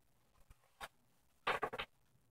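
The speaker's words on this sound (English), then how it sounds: "I'm also shuffling live," Oracle cards being shuffled by hand, heard as a short papery flick followed by a quick cluster of several brisk riffling bursts, close and fairly loud against a quiet room.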